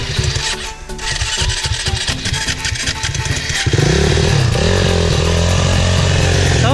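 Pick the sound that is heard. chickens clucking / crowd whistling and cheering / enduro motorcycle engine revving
enduro motorcycle engine revving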